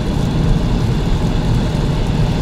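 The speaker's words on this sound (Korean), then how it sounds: "지금 들리는 거는 뭐 바람 소리랑 그다음에 바닥에서 올라오는 타이어" Steady low rumble of tires on the road and wind rushing past a moving Hyundai Ioniq Electric, constant and enveloping, with no engine noise and no voices.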